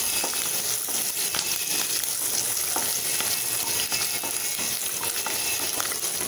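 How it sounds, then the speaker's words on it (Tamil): Shallots, whole garlic cloves and dried red chillies sauté in oil in a pan for Tamil pepper kuzhambu, giving a steady, loud, close sizzle throughout with small stirring crackles and no talking. "நல்லா வதக்கிக்கலாம்."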